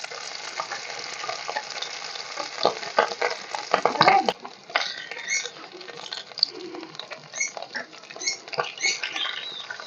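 Grated boiled potatoes go into hot oil with a crackling sizzle and pattering spatter, and a brief louder burst is followed by uneven popping and stirring close by.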